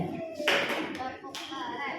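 A classroom of students claps a short rhythmic cheer for a group, with a few sharp bursts of hands over light background voices.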